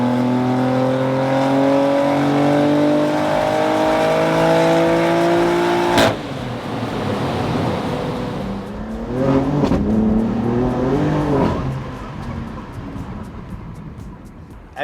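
A tuned BMW M3 G80 Competition with a Stage 1 setup accelerates hard on the road, its engine note climbing through the revs, then a gear change and more rising pulls with a whooshing intake sound, while voices talk inside the car.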